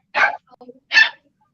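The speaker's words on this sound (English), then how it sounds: "I don't know where the barking dog is." A husky barks twice in short, sharp bursts about a second apart, close and loud, with a soft whimper-like sound between the barks and the start of another at the end.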